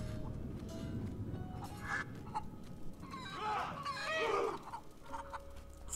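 Chickens clucking and squawking in the game A Plague Tale: Innocence, several agitated bursts of fowl calls rising midway over a low ambient background, fairly close but not loud.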